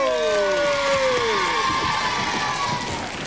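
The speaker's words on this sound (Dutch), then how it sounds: "Applaus!" A studio audience at a Dutch children's television show applauds and cheers loudly, with bright whistles and excited shouts over dense clapping that slowly thins out.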